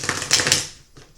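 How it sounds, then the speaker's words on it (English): Tarot or oracle card decks being shuffled for a pick-a-card reading, a brief close burst of papery riffling that quickly fades, with no voices. "I will shuffle them again to set the intention for you."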